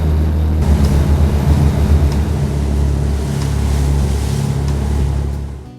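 The motor yacht Aphrodite banking into a turn gives a loud, steady low engine rumble with water rushing along the hull, sustained for several seconds before cutting off.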